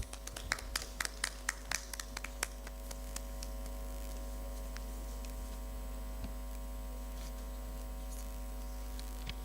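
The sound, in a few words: audience applause after a presentation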